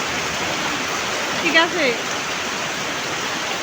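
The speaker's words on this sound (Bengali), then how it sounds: "এত বৃষ্টি, কোথায় কোথায় বৃষ্টি হইতেছে আর বিদ্যুৎ চমকাইতেছে, কেউ বেরোবেন না, প্রচুর বৃষ্টি।" Heavy first-of-the-year rain pours down around a home kitchen during a thunderstorm, making a dense, steady, close roar throughout, with a brief spoken phrase partway through.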